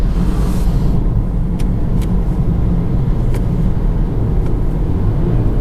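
BMW 320d F30 diesel sedan from 2015 driving, a steady loud engine and road rumble continuing throughout with no pauses, close up from inside the car.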